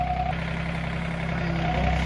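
Yamaha Tri-Moto three-wheeler engine idling in a shop, a low, even rumble that holds steady throughout.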